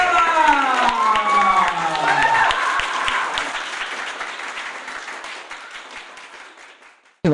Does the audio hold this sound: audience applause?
yes